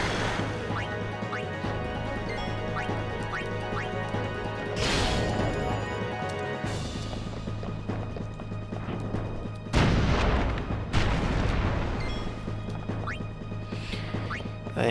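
Battle noise from Final Fantasy X as an enemy machine shoots, with heavy crashing impacts and booming blasts, the loudest around the middle and later, over a constant layer of game music and effects.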